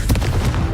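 A Confringo blasting spell fires in Hogwarts Legacy, a short, loud, booming burst with rapid crackling thumps, close and filling the brief moment on its own.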